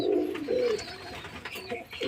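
Pet pigeons coo softly at close range in a few low, throaty rolling phrases, with no voices over them.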